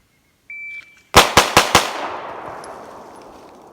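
Four sharp pistol shots crack out in quick succession at a shooting class, loud and close, trailing off into a decaying echo; a short electronic beep sounds just before them.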